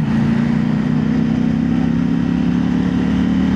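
Steady engine drone of a CFMOTO 800NK motorcycle cruising along a grooved road, a constant loud hum with wind rush, close and continuous with no talk.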